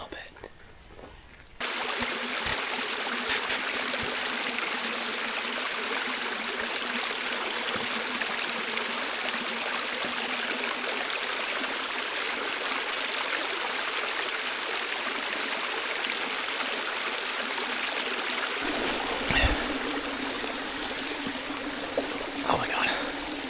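A small forest stream on Vancouver Island flows and trickles close by in steady rushing water noise, after rain, with a brief moment of handling or movement sounds near the end.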